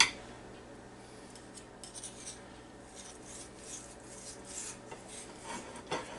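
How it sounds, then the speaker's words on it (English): Knife slicing across the grain of cooked beef brisket, a faint, soft rasping and scraping that comes in short strokes, quiet and close, with no talking. "you just cut it across the grain. And that knife just goes right through there, so easy"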